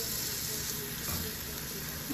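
Grilled chicken sizzling steadily on the heat, a constant close frying hiss with faint background noise and no clear talking.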